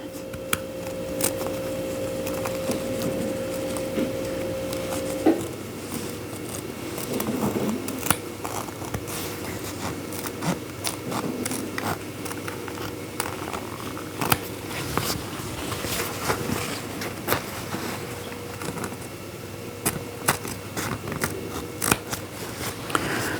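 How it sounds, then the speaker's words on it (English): Scissors snip repeatedly through fabric for raw-edge appliqué, a steady series of crisp cuts and rustles, close up with no talking. "Longer strokes with the scissors are better for making the edges nice and straight"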